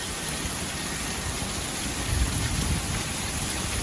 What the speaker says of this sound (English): I've been wanting this rain for so long.